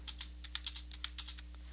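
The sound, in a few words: typing on a computer keyboard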